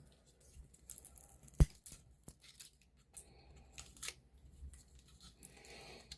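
Packaging being removed from an Amazon Fire HD 10 tablet: soft rustling and crinkling of plastic and paper with a few sharp snaps and tearing bursts, close and fairly quiet, no speech.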